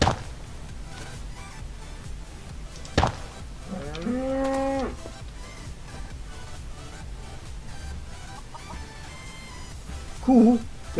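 A cow moos in a farming game, one drawn-out low call and a shorter second moo later, fairly clear over a quiet ambient bed with faint clicks.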